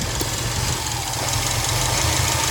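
A 2018 Subaru WRX STI engine idles steadily with a low, even rumble and faint knocking texture, close and continuous, with a boost hose clamp and PCV vacuum hose issue present.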